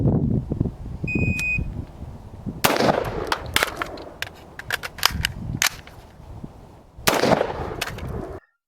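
A shot-timer beep is followed by sharp, loud rifle shots from a stock M4 carbine during a speed-reload drill at 25 yards, fired as a quick string, then a pause for the reload, then another burst.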